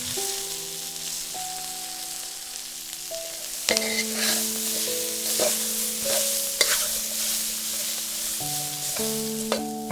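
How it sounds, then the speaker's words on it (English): Mixed vegetables and snow peas sautéing for a Thai stir fry, a steady sizzle broken by stirring scrapes, set under soft background music with no talking. "These vegetables all saute up so quickly, we simply add our snow peas to the batch"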